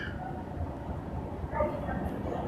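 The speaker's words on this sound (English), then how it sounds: "this is the Lynx train, right? This is the Lynx train station." Lynx light rail train at a station, heard as a low steady rumble with faint rolling hum and a brief higher tone, moderately distant, with no talk.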